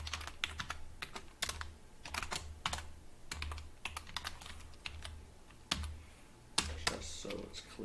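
Code typed at a terminal on a computer keyboard: quick, uneven clusters of close, crisp key clicks with short pauses between bursts, fairly quiet throughout.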